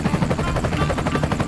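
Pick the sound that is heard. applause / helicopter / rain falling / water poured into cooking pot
helicopter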